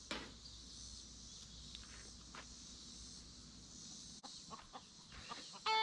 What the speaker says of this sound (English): You hear that, chicken?